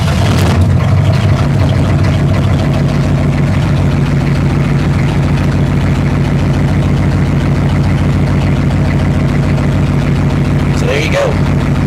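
Chevrolet M1009 Blazer CUCV diesel engine cranking briefly, then catching and settling into a loud, steady low clatter at idle, close by and continuous throughout.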